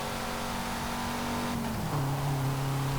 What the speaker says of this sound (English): It's a fairly solid sounding engine.